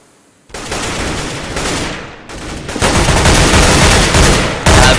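Sustained SMG and AK-47 fire crackles through a competitive Counter-Strike match, with loud, continuous automatic bursts that break briefly and then resume even harder.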